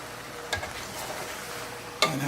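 Pasta is stirred in a sizzling pan on a stove, a soft steady frying hiss with two brief scraping clinks of the utensil against the pan.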